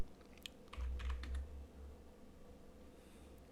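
Typing on a computer keyboard while entering a Linux terminal command for a Docker install: a quick, close run of light key clicks followed by a pause, with a faint low hum underneath and no speech.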